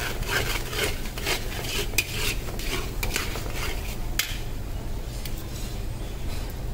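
A spoon scrapes and stirs kandi pedhe mixture cooking with ghee in a pan over low heat, close repeated scraping and rubbing strokes with occasional light clinks.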